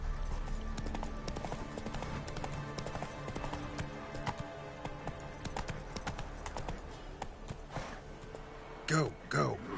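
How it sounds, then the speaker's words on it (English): Steady clip-clop of a horse's hooves riding in The Witcher 3, a continuous even gallop rhythm with game ambience throughout and a brief louder burst near the end. "Whoa there, Roach"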